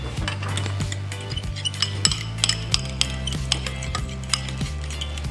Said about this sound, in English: You could do it with a whisk, you could do it with a fork, and I'm just kind of whisking them up.